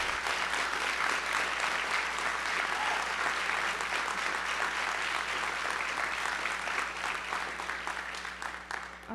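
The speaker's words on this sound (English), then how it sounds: "if you would give these wonderful young people a round of applause" An audience at a school board of education meeting gives students a sustained round of applause, a thick continuous clatter of hands at full strength that begins to thin out in the final second.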